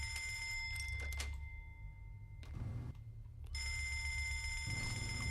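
A persistent, grating bell rings in the game Fallout London, starting loud, dropping out for about two seconds, then returning just as steady and shrill.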